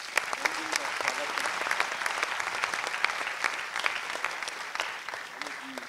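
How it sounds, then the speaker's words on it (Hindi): Audience applause greeting a singer-composer's birthday at a music band launch event, a steady burst of many hands clapping at moderate distance, with faint voices murmuring underneath. "एक तालियों से उनकी जन्मदिन का स्वागत"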